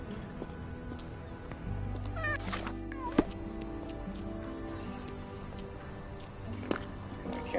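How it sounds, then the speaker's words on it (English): A cat meows in the 2023 video game Sherlock Holmes: The Awakened, several short, fairly clear meows spread over quiet ambient game sound with faint hoof-like clops, and no one speaking over it. "Can't pet the cat."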